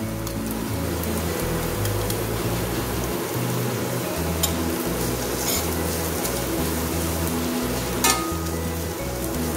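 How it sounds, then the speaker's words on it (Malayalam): Ground coconut paste for green gram thoran sizzles and fries steadily in a hot pan with curry leaves, a dense continuous crackle with occasional louder pops, close and with no talking. "ത്തേക്ക് നമ്മൾ അരച്ച് വെച്ചിരുന്ന നാളികേരം ഇട്ട് കൊടുക്കാം."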